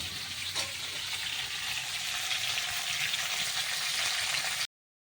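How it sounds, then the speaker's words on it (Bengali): Cauliflower frying in oil in a pan for a vegetarian dish, giving a steady, close, even sizzle throughout with no talking before it cuts off abruptly near the end. "এটা ভাজা হোক"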